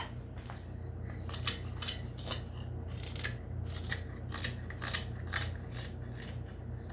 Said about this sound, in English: There's that knife sound I like.